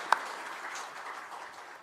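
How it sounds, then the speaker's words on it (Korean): Applause from a church congregation welcoming a new family at a children's worship service, a steady moderately quiet patter of clapping with one sharper clap near the start, fading slightly toward the end. "우리 함께 박수해 주시기 바랍니다"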